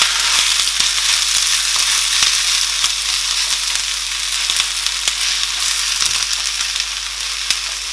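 Spinach cooking in a pan sends out a continuous, close sizzle with fine crackling and occasional sharper pops. The sound stays at an even level throughout and no one speaks.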